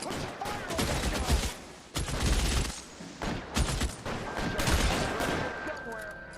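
Tommy gun fire in the video game L.A. Noire, delivered in several rattling bursts of rapid shots with short gaps, at moderate loudness over a busy background.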